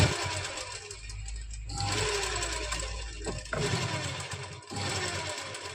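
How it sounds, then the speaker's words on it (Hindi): Sewing machine running a line of small, fine stitches on a lined suit kameez, a loud, steady, close-up motor whir that dips briefly twice before carrying on. "इसमें यहाँ पर सिलाई के साथ साथ छोटे टांके की सिलाई लगा देंगे।"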